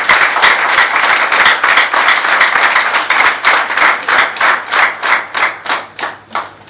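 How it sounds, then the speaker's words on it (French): Audience applause and ovation for a woman minister at a meeting with departmental directors, steady rhythmic clapping from a seated crowd, loud and continuous, thinning into slower individual claps toward the end. "je voudrais demander à l'assistant de faire une ovation pour Madame la ministre"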